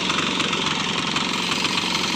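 A grass cutting machine's engine runs close by with a steady, unbroken droning hum, without any talking.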